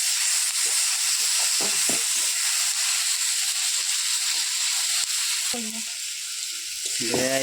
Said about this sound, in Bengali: বিলাতি একটু ভালো করে ভাজিয়ে নিয়ে মশলাটা দেওয়া হবে